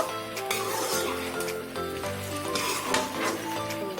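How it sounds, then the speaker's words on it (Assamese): Meat being stirred in a pan with pumpkin while it cooks. A steady close sizzle continues throughout, with scraping and occasional clinks of a utensil against the pan. "আকৌ ভালদৰে মাংসখিনি লৰাব"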